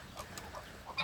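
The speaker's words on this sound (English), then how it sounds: "bedraggled looking roosters." Wet, bedraggled roosters clucking softly at a farmyard roost after high winds and rain, faint scattered calls with a slightly louder one at the end, no talk.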